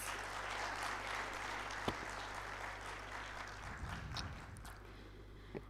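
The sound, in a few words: audience applause for panelists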